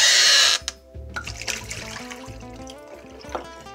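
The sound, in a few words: rinsing an energy drink bottle with water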